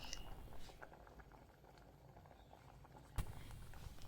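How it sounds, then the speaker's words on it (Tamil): Sambar with raw mango simmering in a pot, a soft, low bubbling and gentle patter throughout, faint and close, with a single sharp clink of utensil near the end. "அதையும் சேர்த்தி நல்லா கொதிக்க விடுங்க"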